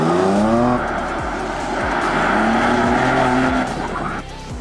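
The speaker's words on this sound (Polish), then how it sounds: "Wszystkimi samochodami jeździmy oczywiście po torze." BMW M2, M4 and M8 Competition cars lap a race track at Silesia Ring on Michelin tires, engines droning loudly while tires squeal in repeated rising and falling wails, close and continuous.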